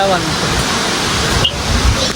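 Flowing water at Saputara, a loud steady broadband rush filling the whole short stretch, with a brief faint chirp partway through.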